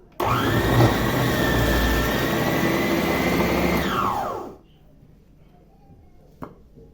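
Electric juicer squeezing oranges, a loud steady motor whir with grinding texture running about four seconds before spinning down, then near silence with a faint knock.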